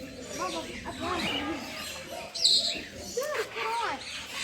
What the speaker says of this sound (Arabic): ايش هذا يا فارس؟ اشكوري هذا. كروان